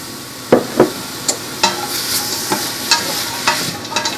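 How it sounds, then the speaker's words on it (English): Onions, white, yellow or red, sautéing in a pot for lentil soup, with a soft steady sizzle under a series of close, distinct spoon scrapes and stirring knocks. "Let's go ahead and saute our onions till they're nice and see-through."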